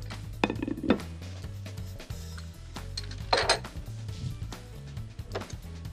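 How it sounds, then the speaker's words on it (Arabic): An empty plate is set down on a kitchen counter among clinking dishes and cutlery. Several sharp ceramic knocks and chinks sound close by over a low background hum. "رح حط أنا صحن قدامي فاضي"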